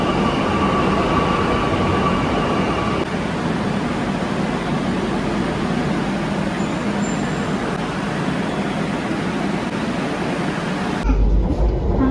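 Continuous rumbling ride noise of a Kochi Metro train running between Ambattukavu and MG Road, a steady broadband roar with no talking, cutting off sharply near the end.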